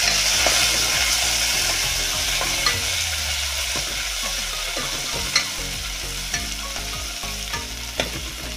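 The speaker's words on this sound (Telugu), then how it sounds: "తాలింపు బాగా వేగింది కదా" A tempering of curry leaves and coriander fries in hot oil, with a continuous bright sizzle and scattered clinks of a spoon stirring the pan, close and steady, with no talk.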